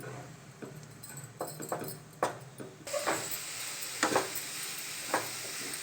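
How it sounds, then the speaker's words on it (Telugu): Grated carrot for carrot halwa, alone in the pan with nothing else added, is stirred and fried: scattered scraping strokes of a spoon, then a steady sizzle that rises partway through and continues under further stirring. "కొంచెం కలర్ చేంజ్ అయ్యేంత వరకు గోలించుకుందాం దీన్ని మనం"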